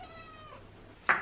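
A cat meows indoors in a home entryway, a soft drawn-out call followed by a sharper, louder meow at the end, close to the listener, with no talking.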